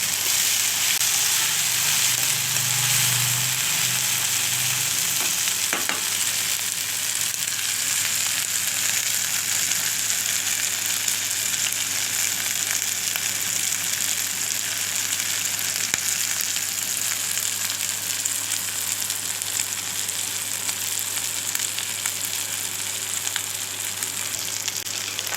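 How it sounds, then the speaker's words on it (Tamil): Dried anchovies (nethili karuvadu) fry in a pan, producing a loud, steady hissing sizzle that holds evenly for the whole stretch, with a brief low stirring rumble near the start. "நடுநடுல இப்படி கலந்து விட்டுக்கோங்க, அடி பிடிக்காமல் அப்படியே வறுத்து எடுத்துக்கலாம்."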